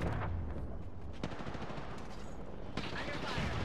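Bursts of automatic weapon fire in the battle royale game Apex Legends, rapid sharp shots in a few clusters over a dense, muffled game mix with background voice chatter.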